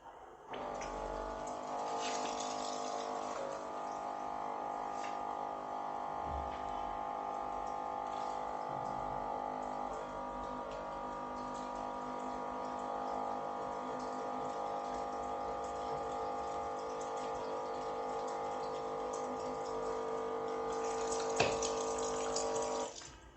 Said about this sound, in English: I'm going to add water to this level, which is, see, this is 700, 900, 1 liter of water.